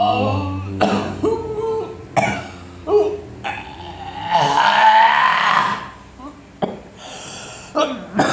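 Repeated coughing fits and throat sounds come in bursts from a nearby person, with gasps and hoarse strained breaths between them. The sounds are close, loud and uneven in rhythm.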